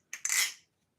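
Aluminum and zinc balisong knife handles clinking together, a short bright metallic clink with a quick second hit ringing out briefly, close and alone.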